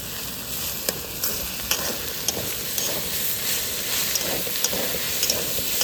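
Ginger paste fries in hot oil for a methi greens dish, giving a steady close sizzle with occasional scraping stirs and clinks from a utensil against the pan.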